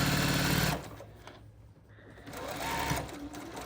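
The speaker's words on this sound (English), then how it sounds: "I'm gonna back stitch" A sewing machine backstitches over a seam join on a patchwork quilted circle skirt, running in a loud steady burst, pausing briefly, then whirring again more quietly.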